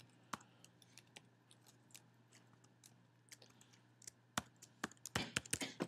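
Faint, scattered clicks of typing on a computer keyboard in a PHP programming lecture, with isolated keystrokes that thicken into a quicker burst near the end, over a low room hum and without talk.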